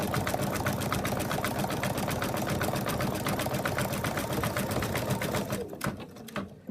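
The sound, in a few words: embroidery machine stitching design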